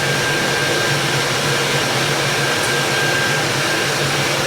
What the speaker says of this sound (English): you're gonna hear the machine blowing the air inside